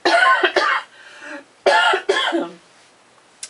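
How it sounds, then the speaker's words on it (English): Two bursts of harsh coughing, each a quick cluster of hacking coughs separated by a brief pause, close and loud. "Excuse me, I have to cough."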